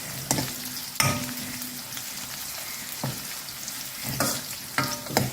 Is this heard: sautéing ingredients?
yes